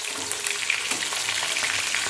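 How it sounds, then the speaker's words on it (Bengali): Bata fish frying in oil, a close, loud and constant sizzle with crisp crackling bursts, heard alone without voices. "মাছ আমাদের প্রায় ভাজা হয়ে এসছে,"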